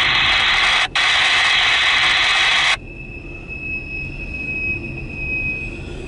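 A loud, steady rumble of CSX local freight train cars rolling past nearby, cutting off abruptly to leave a faint lingering hum and a thin high whine.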